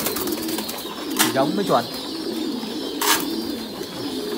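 Thai Titan pigeons coo nearby in a couple of soft, warbling bursts, with someone speaking over them.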